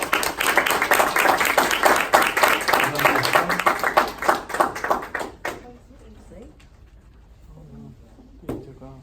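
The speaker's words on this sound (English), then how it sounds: "So if you guys can give Anissa a big round of applause, please." A crowd claps and cheers for about five seconds, dense and steady, then the applause fades out into quiet room noise with a brief sound near the end.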